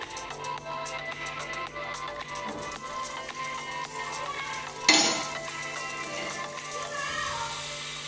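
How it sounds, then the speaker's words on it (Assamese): Eggs fry in a pan for egg chilli curry, a steady crackling sizzle with utensil scrapes and a sharp metallic clatter midway, no talk. "এতিয়া এইখিনি অলপ ফ্ৰাই কৰি লম।"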